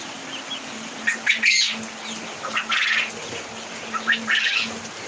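Several bursts of harsh squawks and chatter from red birds, spaced a second or so apart, over a steady low hum.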